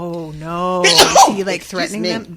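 A single sharp sneeze bursts out mid-conversation, loud and close, with people talking before and after it.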